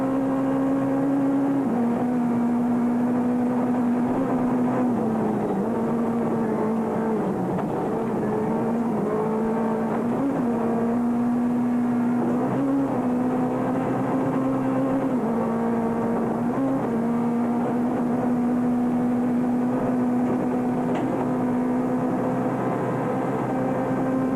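Rally car, a Golf, driven at high speed in a 2006 rally: a sustained, loud engine drone heard from inside, with pitch rising and dipping through gear changes, no voices.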